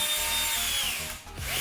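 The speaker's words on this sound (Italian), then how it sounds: "Un trapano avvitatore" A Bosch cordless drill driver whirs steadily at close range, its motor pitch dipping briefly before spinning back up.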